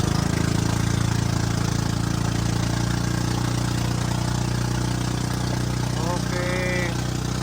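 Boat engine running with a loud, steady low drone and rhythmic throb throughout, close by, with a few faint voices briefly audible over it near the end.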